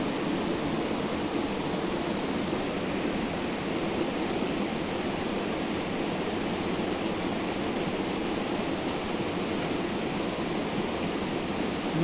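Waterfall at Senador José Bento in the Minas Gerais hills, a steady, loud, broadband rush of falling water filling the whole stretch without a break.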